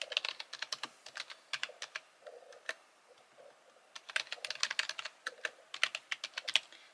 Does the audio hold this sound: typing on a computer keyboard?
yes